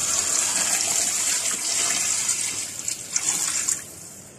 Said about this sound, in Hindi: तेज गर्म पानी मैं इसके अंदर पाई में डाल दूंगी